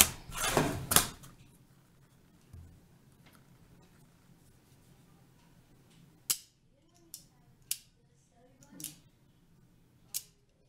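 Scissors cut satin fabric for a pillowcase, a quick flurry of snips up front followed by several sharp, isolated clicks spaced apart in a quiet room.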